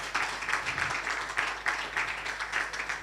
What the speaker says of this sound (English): Please put your hands together. Be very generous again with your applause.